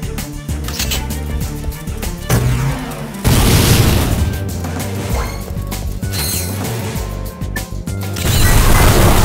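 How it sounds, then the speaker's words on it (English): Gravity bomb explosions in the video game Ratchet & Clank: Going Commando, loud booming crashes with mechanical clatter, a sharp surge partway through and another near the end, dense and continuous. "Selecting the gravity bomb and using it against."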